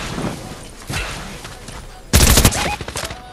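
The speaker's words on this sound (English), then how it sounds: "I heard his heavy shotgun go off" A heavy shotgun fires in a video game with one loud, sharp blast near the end, preceded by a couple of softer, muffled thumps in the background.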